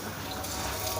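Water running from a tap and pouring into a pot to soak good-quality rice for a home-cooked chicken biryani, a soft, steady splashing gush close by.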